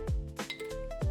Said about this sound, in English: Then turn off the heat and add a cinnamon, star anise,